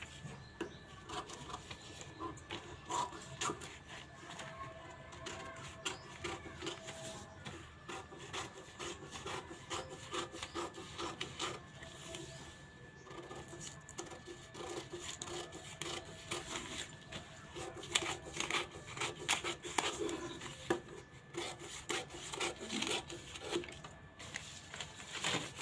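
Scissors cutting blouse fabric for a katori blouse, steady quiet snipping and rubbing of cloth close by, continuous throughout with brief louder bursts.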